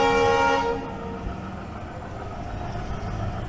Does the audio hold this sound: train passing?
yes